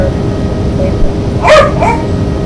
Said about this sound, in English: that's just my dog barking out